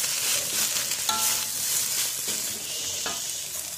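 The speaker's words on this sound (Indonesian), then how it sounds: "Kita masak kangkung dan diberi air dulu, dioseng terus sampai dia semua layu." Water spinach (kangkung) stir-fries in a pan with added water, giving a continuous close sizzle broken by a few scraping stirs and light knocks of the utensil; no voices.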